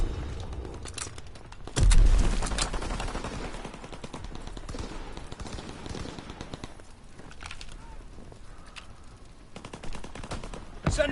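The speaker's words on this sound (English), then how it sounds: "Call for a strafing run." Gunfire from an aircraft strafing run in Call of Duty WWII multiplayer, a loud burst near the start followed by continuous crackling shots and distant battle noise, with a voice over it at times.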